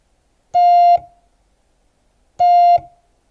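Two identical Morse code dah elements sound as long, steady beeps, each about half a second, separated by nearly two seconds of silence, clean and loud with no talking.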